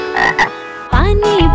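A frog gives two loud, close croaks, a short pair followed by a longer, stronger drawn-out call, heard alone against silence.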